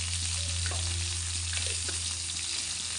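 A fish head fries in hot turmeric oil as panch phoron five-spice is dropped in, giving a loud, continuous crackling sizzle with small pops over a low steady hum.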